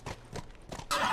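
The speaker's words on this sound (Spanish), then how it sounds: "Quédate con el caballo." A horse in the video game The Last of Us gives a loud, close whinny, with hoof clops at the start and a bright neigh at the end, and no talk over it.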